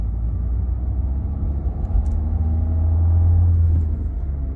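A Renault Clio IV Limited with the 1.5 dCi 90 hp diesel accelerating, heard from inside as a steady low engine rumble that swells slightly toward the end, with no talk.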